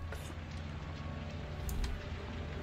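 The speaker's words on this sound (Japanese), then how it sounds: "雨が降ってきて嬉しいですよ。" Rain in the video game Layers of Fear 2 falls as a soft, continuous hiss of drops, fairly quiet and steady throughout, with a couple of faint ticks near the end.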